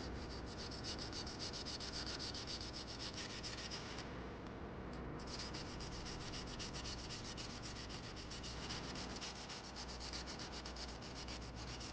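A sanding stick rubs back and forth through primer on a model GMC pickup, making a close, steady scratchy rasp that runs almost without a break, with one short pause.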